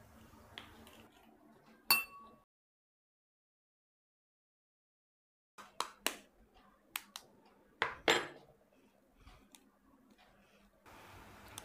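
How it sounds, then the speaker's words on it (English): Eggs cracked against a bowl for a capsicum omelette make sharp, close clicks and taps, a single crack, a silent gap, then a quick run of several crisp knocks and clinks over quiet room tone. "See, I can break the egg very well."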